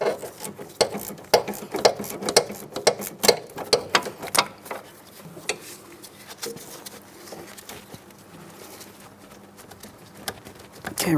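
Ratchet wrench clicking in quick bursts while snugging a front sway bar link nut on a 2003-2007 Cadillac CTS, close and crisp, pausing between strokes with faint shop background.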